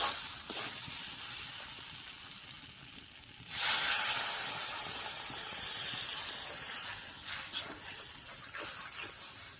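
Water poured into a hot pan of bitter gourd curry, a sudden loud hiss bursting up then settling into a softer steady sizzle and bubbling, without speech.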